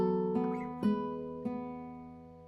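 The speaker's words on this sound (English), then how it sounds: "The first chords of Lágrima" Opening chords of Tárrega's Lágrima on a classical guitar, three soft plucked chords spaced across a couple of seconds, each ringing out and decaying gently, played solo and close.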